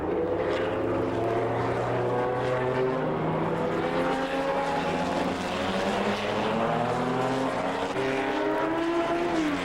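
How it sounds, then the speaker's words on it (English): A 1949 Ferrari race car, number 22, runs at a Ferrari Club of America national meet, its loud engine droning steadily and close throughout with no speech. "Car number 22 going by, that must be the car that he drove in 1949"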